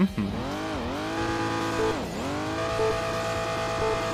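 A car engine in an old-school rally video game revs hard, the pitch dipping and climbing again through gear changes, a loud, buzzing, harmonic whine heard alone.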